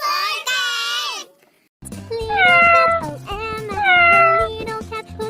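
Cat meowing in a children's phonics song, a long high meow followed after a short pause by drawn-out, wavering meows over a simple musical backing.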